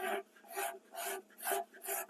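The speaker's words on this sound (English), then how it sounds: "So I'm just going to get a scraper and scrape the majority of it off like this." A hand scraper rasping finish off ebony wood in five steady, evenly spaced strokes, close and dry-sounding with brief pauses between passes.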